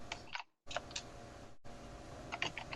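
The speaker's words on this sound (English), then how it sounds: "Okay, Mark, we can hear you talking, typing" Keyboard typing during an online tabletop game session, faint scattered clicks at a low level with brief dropouts of silence, no talking.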